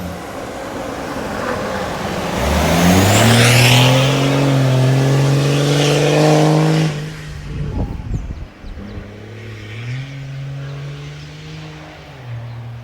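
A Nissan Patrol M57 spins its wheels and accelerates hard on a Kenyan road, its engine climbing loudly through a long rev before dropping back. A second, shorter surge of acceleration follows.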